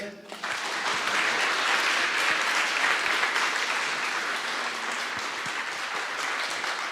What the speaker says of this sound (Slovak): Tak Simon, veľký potlesk.